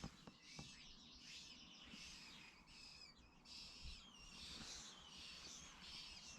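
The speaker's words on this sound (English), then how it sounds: "The little birds in the nest are squeaking away, tweeting away." Faint high chirping and squeaking from baby birds in a nest high up near an abandoned castle buried in a Scottish forest, repeated in short bursts and heard from a distance.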